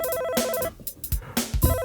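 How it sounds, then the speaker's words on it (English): An electronic telephone ringtone sounds loud and close, with a repeating tonal pattern in short bursts broken by brief gaps and some clattering noise. "We're getting a phone call."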